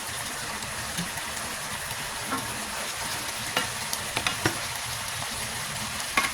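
Pork stir-fries in a hot pan with a continuous close sizzle, broken by scattered clinks and scrapes of a utensil stirring the meat; no one speaks.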